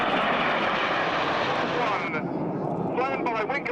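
Red Arrows display jets roaring low and loud past the crowd at the RAF Leuchars airshow, a continuous dense jet rush that sweeps through and shifts in pitch as they pass.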